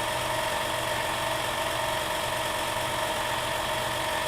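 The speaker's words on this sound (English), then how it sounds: "No, a paint shaker." A paint shaker runs nearby in a home workspace, a steady loud buzzing vibration with a constant mechanical drone that never lets up, heard alone with no voices.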